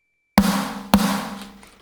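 Two punchy programmed metalcore snare drum hits, about half a second apart, each ringing out with a full, layered body and tail.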